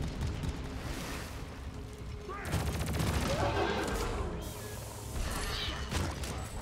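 Gunfire from the mining co-op shooter Deep Rock Galactic, a few loud bursts and crashes close up, mixed with game effects and a voice talking over parts of it.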